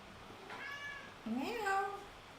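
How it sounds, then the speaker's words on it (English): A pet cat named Alex meows twice at close range, a short mew followed by a longer rising and falling meow, with a quiet indoor background. "It's a cat of mine. It's my cat."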